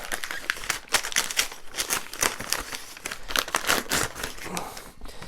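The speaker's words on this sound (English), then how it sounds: "Go ahead and take the oil paper off" Oil paper crinkling and tearing as it is peeled off a new Harley Benton TE-20MN electric guitar, a steady run of close, dry rustles and crackles with no talk.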